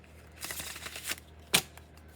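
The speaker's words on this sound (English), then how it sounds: "3 shuffles, and we're going to clarify" Tarot cards being shuffled by hand, a quiet close riffle of rapid papery flutters with one sharper slap near the end, no talking.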